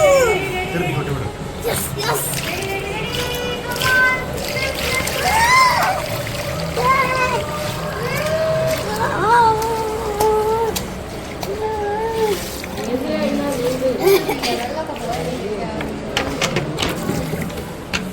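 Children splash water in an infinity pool, with irregular splashes and sloshing under almost constant voices of children and adults talking and calling out.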